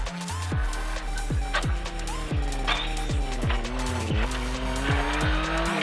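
A race car engine roars loud and close, rising in pitch repeatedly as it accelerates flat out, with each gear shift cutting the revs in a steady series, and some tire squeal mixed in.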